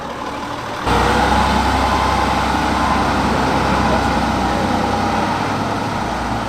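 A classic AEC truck with an ergomatic cab, at a truck stop line-up, suddenly roars in close by and holds a loud, steady engine drone with a thin gearbox whine running through it.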